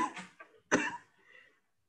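A woman coughs in a classroom-style lesson, one short cough followed by a louder, harsher one and a fading breathy tail, close and alone.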